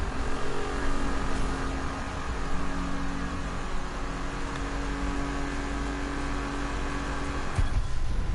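Dodge Challenger engine in the 2015 Need for Speed video game, a steady, dense high-speed drone at a constant pitch throughout, ending in a brief shift near the close.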